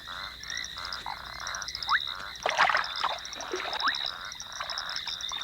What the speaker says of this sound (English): Not only frogs are attracted to the pond